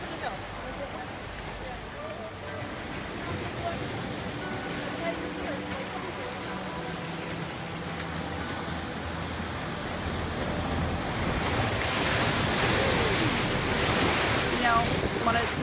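Ocean waves break against a rocky shore along a cliff walk, making a steady, loud wash with wind buffeting the microphone that builds toward the end, without speech.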